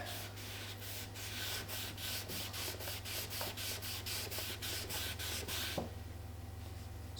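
Wet cloth rubbed in repeated back-and-forth strokes over a hand-carved wooden bowl to raise the grain, a steady scrubbing rhythm of about twenty strokes under a constant low hum, stopping near the end.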